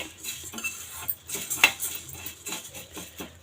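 Coriander seeds dry-roast in a pan while a metal spoon stirs them, giving close, uneven clinks and scrapes of utensil against the pan over a faint rustle.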